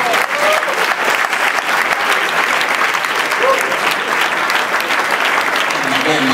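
An audience at the L'Aquila Tango Festival in Italy claps steadily and fairly loudly for the whole stretch. A few voices are audible under the clapping.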